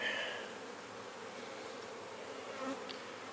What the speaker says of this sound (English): the more bees in the air at this time of year, the more honey robbing we get going on